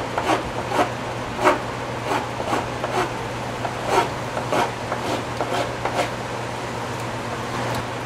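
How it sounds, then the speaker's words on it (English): A hand file strokes metal during a Yamaha Radian custom motorcycle build, giving a steady series of rasping scrapes about twice a second, close, over a constant low electrical hum, with no one speaking. "I'm going to have much more control with this hand file"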